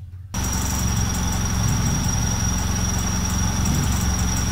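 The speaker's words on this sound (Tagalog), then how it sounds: "binuksan ko yung makina. Kung makikita nyo, ang reading natin 650 RPM." Carbureted car engine idling steadily at about 650 RPM while still cold, a continuous low rumble with a faint high whine, starting abruptly after a brief quiet moment and running alone throughout.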